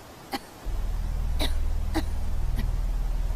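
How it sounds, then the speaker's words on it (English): A strange cough-like sound from a ghost video, with three or four short harsh bursts spaced about half a second apart over a steady low hum. "A weird cough."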